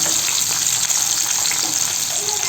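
Chopped onion and garlic sautéed with roasted lentils for a mint chutney, a loud, dense, unbroken frying hiss close by, with no talk over it.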